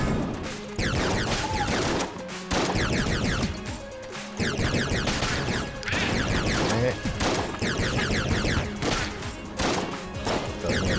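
Rapid, continuous bursts of weapon fire in the video game Enter the Gungeon, loud and dense for most of the stretch with only short breaks, layered with crashing impact effects and game sounds.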